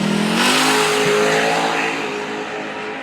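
A muscle car launches down a drag strip, a loud roaring engine surging hard at the start and then fading slightly as it pulls away.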